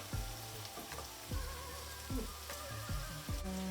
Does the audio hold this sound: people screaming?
no